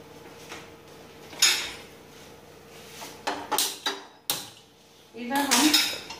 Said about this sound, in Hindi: इधर हम कढ़ाई में तेल गरम करने के लिए रख देंगे इनको तलने के लिए।